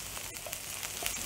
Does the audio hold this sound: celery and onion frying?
yes